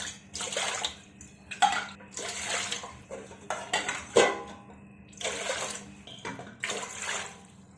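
Water poured glass by glass into a bowl, with several close splashing bursts separated by short pauses and an occasional clink of the vessel.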